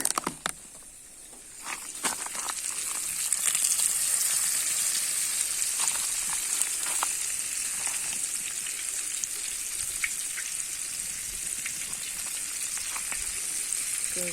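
Floured fish frying over a wood fire, a steady loud sizzle with scattered pops and crackles running continuously, rising slightly after the first couple of seconds.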